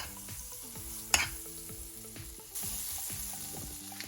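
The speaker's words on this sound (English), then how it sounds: "We'll start off with butter, saute the pumpkin to make a pumpkin mash." Butter sizzles in a frying pan as pumpkin sautés, a steady close crackle that swells louder partway through, with a brief sharp clank and stirring scrapes, no voices.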